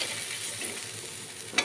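Warm water stirred into fried onions and spices for a fish curry gives a soft, continuous sizzle and bubbling scrape, ending in a brief louder clink.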